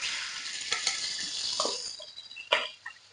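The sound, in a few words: fish pieces frying in pan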